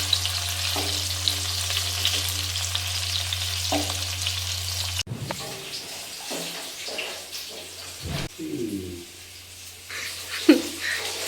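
Onion and capsicum frying in a pan for an aloo fry, a steady close sizzle at first, then stirring clatters and scraping over a softer, uneven frying hiss.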